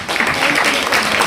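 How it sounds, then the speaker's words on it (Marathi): Enthusiastic applause from an audience at a centenary ceremony of Seth G.S. Medical College and KEM Hospital in Mumbai, welcoming an honoured guest. It is a dense, steady clatter of clapping that fills the whole moment. "जोरदार टाळ्या."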